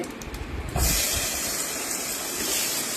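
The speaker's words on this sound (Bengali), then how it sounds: "তেলের উপরে কালো জিরে ফোড়ন দিয়ে তার উপরে মাখা মাছটা দিয়ে খানিকক্ষণ নেড়ে চেড়ে" Fish rubbed with turmeric and salt hits hot oil tempered with black cumin seeds, breaking into a loud, steady, close sizzle after a brief quieter start and hissing on without any talk.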